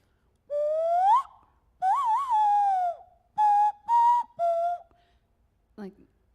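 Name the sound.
whistling through the nose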